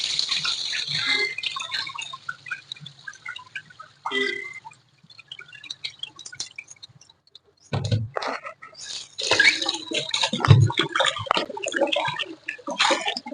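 Ragi grain is rinsed by hand in water, with scattered splashes and sloshing separated by quiet pauses, the swishing growing busier and louder toward the end.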